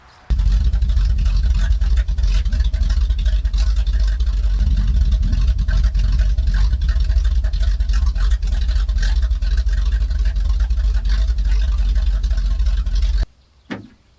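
A 1968 Pontiac ambulance engine runs loud and close for over ten seconds with rough steady rumble and slight rev changes, then cuts off abruptly.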